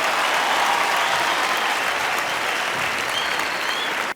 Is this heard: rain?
no